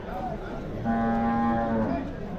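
Bulls at an open cattle market in Vaniyambadi let out a single long, steady moo amid the murmur of a busy crowd and nearby talk.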